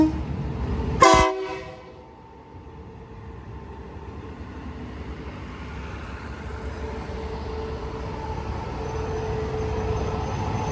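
Daewoo diesel railcar pulling into platform one at Nakhon Si Thammarat station in Thailand, a short loud horn blast followed by a steady low rumble of the train rolling in.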